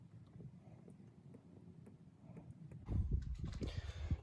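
A Renault Clio 2 engine runs after an oil change: a low, steady idle rumble that swells and grows rougher toward the end, with no one speaking.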